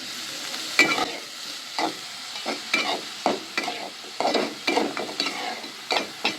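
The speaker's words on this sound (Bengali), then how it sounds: "হালকা ভেজে নিব তেলের উপরে" Vegetables stirred in hot oil in a pan for a vegetable soup, with salt added during frying: a steady soft sizzle under a run of short, irregular scraping stirs, close and fairly loud, with no talk.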